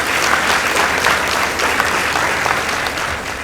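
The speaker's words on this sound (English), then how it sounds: "Let's give them a round of applause." A round of applause from a high school debate audience at a Kathiani Girls versus Mbooni Boys contest, thick continuous clapping close and loud throughout.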